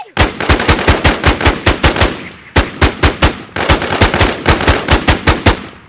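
Rapid automatic gunfire from the online shooter game Infestation, loud and close, in fast bursts of evenly spaced shots with short pauses between volleys.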